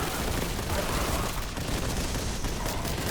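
Sustained heavy bolter gunfire from the Warhammer 40K: Boltgun video game, a dense, continuous barrage of rapid shots and booming impacts that stays loud throughout with no pauses.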